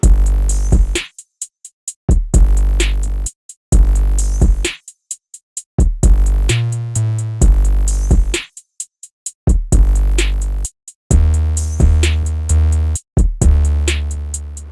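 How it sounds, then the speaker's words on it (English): Punchy hip-hop beat with heavy booming 808 bass and hard kicks, dropping out in short gaps before slamming back in, loud and up front. "And now it was time for a hard 808 and kick."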